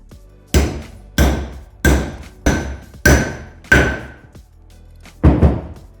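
Heavy hammer blows drive a tool seating bearing races into a Volkswagen T25/T3 front brake hub and disc assembly: seven loud, close metallic thuds at a steady pace, each ringing briefly before the next strike.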